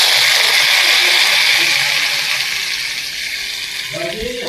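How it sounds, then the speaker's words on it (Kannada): Mustard seeds tempering in hot oil for a ripe-mango sasive dish, a loud, steady hiss of sizzling close up that gradually eases, with a few stirring clinks at the end. "ಇಷ್ಟೇ ಒಗ್ಗರಣೆ ಕೊಡವು"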